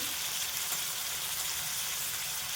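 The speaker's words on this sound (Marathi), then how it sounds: "कांदा परतून झालेला आहे आता टोमॅटो टाकून घेऊ" Tomatoes go into sautéed onions frying in a pan, heard as a continuous even hiss of sizzling oil, moderately quiet and unbroken, with no voices.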